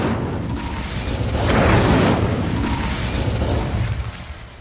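An Incendio fire spell cast in Hogwarts Legacy, heard as a whooshing, roaring burst that swells midway and trails off, loud over a low background.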